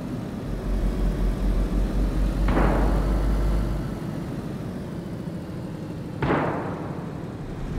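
Two sharp, distant gunshots a few seconds apart ring out in a video game roleplay world, over a steady low vehicle engine drone while driving on a rough road.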